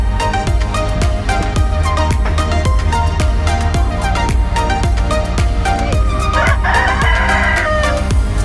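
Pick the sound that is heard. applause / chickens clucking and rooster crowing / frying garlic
chickens clucking and rooster crowing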